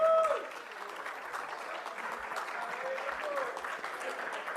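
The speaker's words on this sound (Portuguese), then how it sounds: "Salva de palmas." Steady audience applause fills a conference hall at a Brazilian agribusiness panel event, sustained clapping from a crowd after a brief tone at the start.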